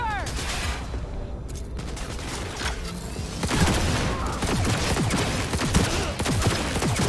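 Rapid bursts of gunfire in the video game Cyberpunk 2077, with dense volleys of shots that grow heavier partway through and continue over the game's background sounds and faint voices.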